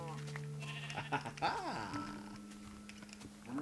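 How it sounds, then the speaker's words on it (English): A Minecraft sheep bleats over a steady electronic hum, with quiet keyboard clicks and a voice speaking nearby. "Sheep, sheep, sheep, sheep, sheep, sheep, sheep."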